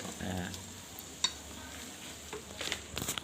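Food being stirred in a pan beside a rice cooker: soft, quiet scraping and faint sizzle, with a single light clink and a cluster of busier scrapes near the end.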